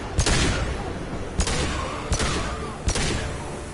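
Bursts of gunfire in the shooter game Mass Effect, four sharp loud volleys spaced about a second apart over a dense, noisy combat background.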